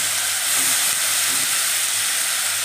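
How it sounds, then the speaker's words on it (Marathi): Cluster beans (gavar) tossed into hot oil tempered with mustard seed, cumin, ajwain and turmeric give off a loud, steady hiss of sizzling that holds evenly from start to finish, with no talking. "शेंगा टाकून छान परतून घ्यायचं आहे।"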